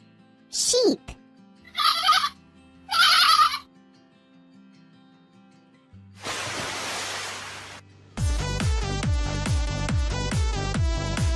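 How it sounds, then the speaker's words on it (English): Cartoon farm-animal sounds: a few short bleats in the opening seconds, then a burst of noisy hiss and a fast buzzing, pulsing tone, all close and fairly loud. "Sheep."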